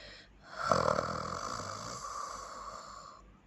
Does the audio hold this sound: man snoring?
yes